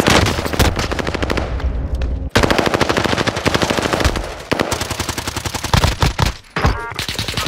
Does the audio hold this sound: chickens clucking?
no